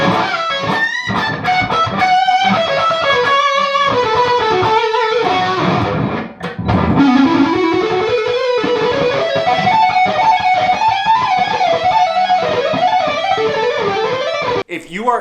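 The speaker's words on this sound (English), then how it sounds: "there's that classic Tiny Terror hiss." An Orange Terror Stamp guitar amp playing a distorted, high-gain electric guitar riff, loud and continuous, with sustained bends and a steady hiss under the notes.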